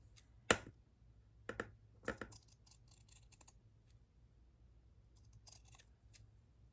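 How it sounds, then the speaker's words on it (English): Scissors trim a small print for a handmade card, giving a few crisp snips and clicks in quiet surroundings, close up with no talking. "Again, this one needs to be trimmed."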